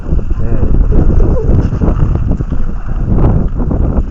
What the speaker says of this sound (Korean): 바람이 불어가지고요.